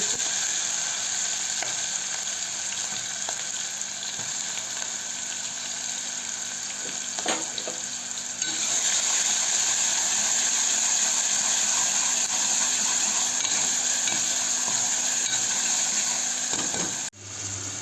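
Chopped onions fry in a pan, giving a continuous mid-level sizzle with a few faint stirring scrapes, and a steady hiss that grows louder partway through; no one speaks.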